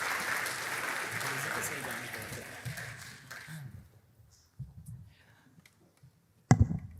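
Applause from a hackathon audience greets a demo team, fading out after a few seconds into near quiet broken by a few stray claps and brief talk, then a sharp thump.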